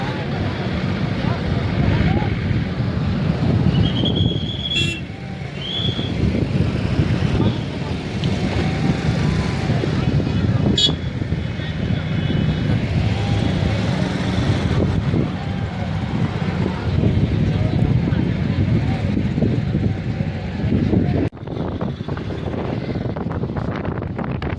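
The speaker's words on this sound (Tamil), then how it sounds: "திடீர்னு காற்றடிக்குது" Strong wind gusting steadily through snowy high mountains near Atal Tunnel, Manali, during live snowfall, a continuous roaring rush with the microphone buffeted throughout and a voice talking over it.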